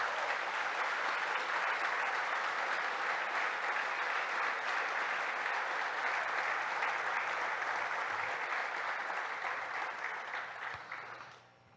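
A church congregation stands and applauds for Jesus, a dense, steady roar of clapping that fills the room for about ten seconds before tapering off at the end.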